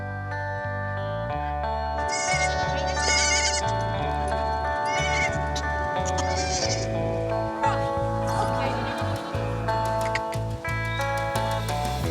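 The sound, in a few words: pygmy goats bleating in a barnyard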